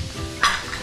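Peppers and onion frying in a pot, a soft steady sizzle with one brief scrape of stirring in the middle, fairly quiet and close.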